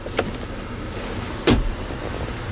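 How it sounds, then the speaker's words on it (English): Jeep Wrangler Unlimited Rubicon power window motor running briefly, a short whirring hum of about a second over quiet cabin background, preceded by a faint click. "There's your power windows."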